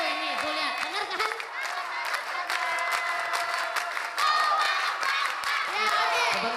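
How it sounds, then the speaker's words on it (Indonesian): A studio audience claps and applauds steadily, dense and loud throughout with a brief swell near the end, with a voice speaking faintly underneath. "Beri tepuk tangan sekali lagi untuk Jurnal."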